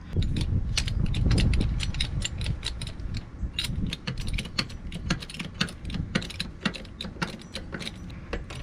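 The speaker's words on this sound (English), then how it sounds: "Now we are going to jack this sucker up" A jack slowly raises an RV with a steady series of sharp mechanical clicks and ratcheting taps, close by with no talk.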